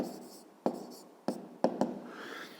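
Pen or chalk taps and scratches as a math equation is written out, a few sharp strokes spaced irregularly over a soft, quiet background.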